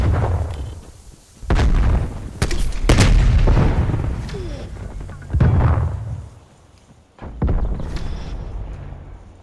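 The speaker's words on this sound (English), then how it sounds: "Grenade out." Loud grenade blasts in the video game Call of Duty: Black Ops Cold War: several sharp, booming explosions in a row, each trailing off into rumble and debris before the next one hits.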